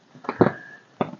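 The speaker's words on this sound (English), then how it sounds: "That popcorn sound you hear is the rain falling off the trees onto the roof of the blind." A few irregular pattering taps of rain dripping off trees onto the roof of a hunting blind close by, sounding like scattered popping.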